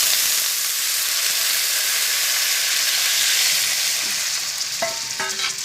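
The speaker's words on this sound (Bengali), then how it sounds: "তো আমি এখানে কিছুটা জল দিয়ে দেব।" Water is poured into a sizzling spice paste for a rohu fish curry with potato and pointed gourd, producing a loud, steady hissing fry that continues close by, with a few clinks of a utensil near the end.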